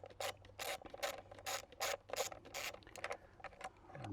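A ratchet wrench loosens a 12 mm bolt on the intake manifold of a 2018 Honda BF50 outboard, giving about nine quick rasping ratchet strokes in a steady back-and-forth rhythm, close and fairly quiet.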